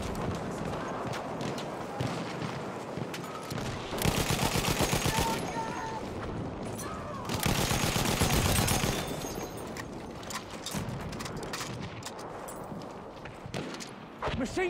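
Bursts of machine gun fire crackle in the World War I shooter Battlefield 1, two long loud rapid volleys over continuous battle noise, with a voice speaking in between.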